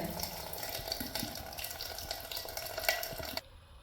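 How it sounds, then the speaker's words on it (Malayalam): Water being poured off cooked ash gourd pieces for Kerala olan, a steady close splashing and trickling stream that runs for about three and a half seconds, then stops abruptly, with no talk. "ഇപ്പോൾ വെള്ളം ഒന്ന് ഊറ്റിയെടുക്കുന്നുണ്ടേ"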